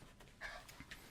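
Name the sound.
dog panting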